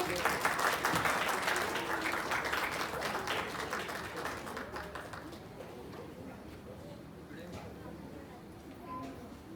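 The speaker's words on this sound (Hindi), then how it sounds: "तालियां बजती रहे।" Loud audience applause at a Uttarakhand community festival stage event in Japan, dense clapping that gradually thins and fades, with voices faintly underneath.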